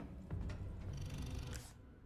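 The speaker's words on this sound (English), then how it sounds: "I hear purring." A soft, low cat purr in the video game Resident Evil 4 rumbles steadily for a couple of seconds, quiet and close, fading out at the end.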